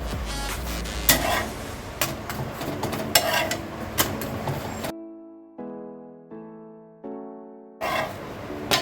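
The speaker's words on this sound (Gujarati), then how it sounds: "તો આવી રીતે આપણે બંને સાઈડેથી બરાબર રોટલીને શેકી લઈશું." Flatbread roti for paneer tacos roasts on a pan, with a light sizzle, scraping and clattering touches while it is turned. A short tonal musical passage cuts in before the pan sounds return, with no talk.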